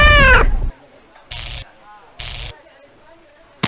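A cat meows in the video game Kingdom O' Magic, with one loud opening yowl followed by two shorter, fainter meows spaced across a quiet stretch.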